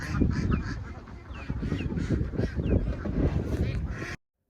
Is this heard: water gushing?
no